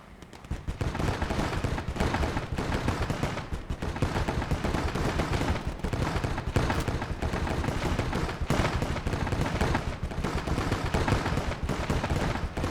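Dense, continuous battlefield gunfire from the video game Gates of Hell: Ostfront in a Russian swamp setting, loud rapid bursts and overlapping shots with heavier thuds, sustained without pause.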